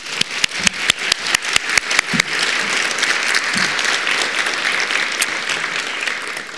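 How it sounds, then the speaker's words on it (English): Audience applause at an arts legacy awards event, opening with a run of sharp, evenly spaced single claps from someone nearby before the whole crowd joins in a sustained, fairly loud wash of clapping. "And you can clap now."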